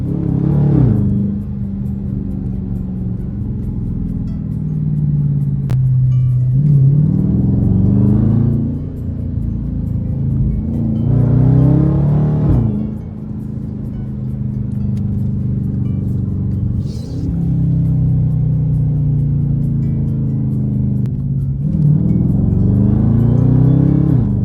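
A Dodge Charger R/T engine revving in repeated swells, each rising and falling over several seconds with a steady whine riding on a deep rumble, recorded up close with no talking.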